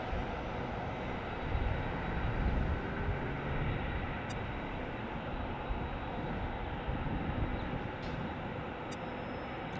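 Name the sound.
heavy airliner passing at LAX airport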